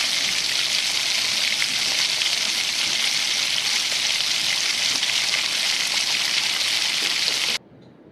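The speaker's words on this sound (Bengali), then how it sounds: "মশলাটা এখানে আমার ফুটছে।" Ground spices hit reddened fried onions in a pan while a chicken dish cooks, giving a loud, steady, hissing sizzle that runs unbroken for several seconds, then cuts off abruptly near the end.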